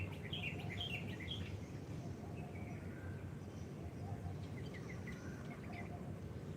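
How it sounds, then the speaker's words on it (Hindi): Small birds chirp in short, scattered bursts in the morning open air, faint and some distance off over a low steady background hum. "पक्षियों की मधुर चहचहाहट"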